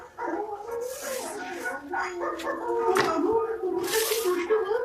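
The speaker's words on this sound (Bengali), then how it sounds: "কুকুরের ঘেউ ঘেউ শুনে কি করে বুঝবো যে তুমি কি বলছো?" A pet dog at home gives yips, whimpers and short whiny barks, close by and mixed with people talking.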